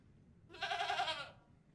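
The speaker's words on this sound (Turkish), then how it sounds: "İkinci seçenek solumda gördüğün keçi." A single goat bleats once, a short wavering cry of about a second, moderately faint against a quiet background.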